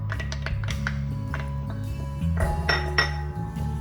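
Sugar and dry scone ingredients stirred together in a bowl, heard as a quick run of bright clinks and taps of a utensil against the bowl over a quiet background, with nobody speaking.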